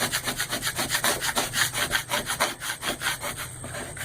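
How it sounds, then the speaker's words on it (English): Rhythmic back-and-forth scraping strokes of a squeegee rubbed hard over a vinyl decal, steady and close, about two strokes per second with no talk. "Run squeegee over it"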